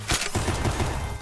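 Sniper rifle fire in the video game Ancient Warfare 3: a sharp, loud shot opens, followed by a dense crackle of further gunfire that fades slightly before another burst at the end.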